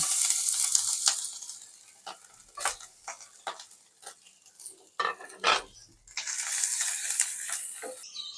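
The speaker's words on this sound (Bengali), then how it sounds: "আমি প্রথমে মাংসগুলোকে একটু হালকা ভেজে নিব।" Meat pieces fry in mustard oil with a loud, bright sizzle that swells and fades as the pieces are stirred, punctuated by clattering spatula knocks against the pan, close up and with no one speaking.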